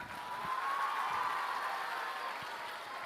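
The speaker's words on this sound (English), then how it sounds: "clap your hands even louder" Audience applause, a steady wash of many hands clapping at once, loud and sustained for a few seconds with no pauses.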